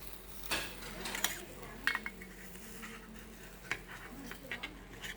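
A hot lid comes off a pot of Vietnamese food cooked over charcoal, followed by scattered clinks and scrapes of utensils and dishes while plating up, fairly faint against a quiet room background.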